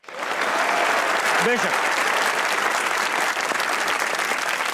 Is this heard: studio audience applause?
yes